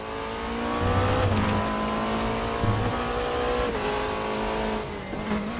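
GT3, DTM and Hyperclass race cars at Daytona in the Raceroom racing game scream along with a loud engine note that shifts through gears, rising and falling with brief tire squeals.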